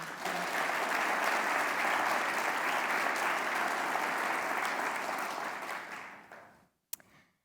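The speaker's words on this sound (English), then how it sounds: "Another round of applause for Manal." A seminar audience gives a dense, steady round of applause that holds for several seconds, then fades out and stops, ending with a single sharp tap.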